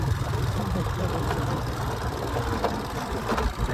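A tractor engine rumbles steadily a short way ahead on a road, heard from a motorbike following behind, a constant low drone with wind and road noise and no clear breaks.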